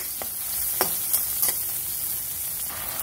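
Garlic and tomato sauté in a hot pan with a steady close sizzle, broken by a few short clinks as a utensil stirs.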